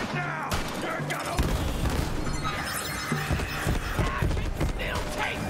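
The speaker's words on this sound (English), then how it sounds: "Explosion!" Booming blasts and shattering debris from an explosion in Borderlands 3, a burst of loud impacts and crashes heard up close, mixed with game combat noise.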